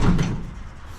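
Sliding door on an HVAC service van rolling shut, a single heavy, loud, close thud with a short rumble that fades quickly, no talking.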